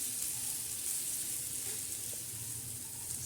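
Chana dal and green chillies being stirred while they fry in a pan, a steady close sizzle with soft scraping movement running continuously throughout, no voices.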